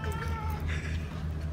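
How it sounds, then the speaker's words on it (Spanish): Cats meow at close range, their calls rising over a steady low hum in an indoor room, with no one talking. "Te están respondiendo los gatos"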